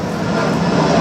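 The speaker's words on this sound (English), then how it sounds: "this neighborhood's right in the flight path, so you're going to hear planes going overhead" An airplane passes over a Lisbon neighborhood that sits in the flight path, a steady, loud broadband engine roar filling the whole moment without any talk.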